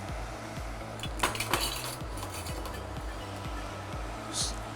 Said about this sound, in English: Give it a little stir, not too much, because the fish is there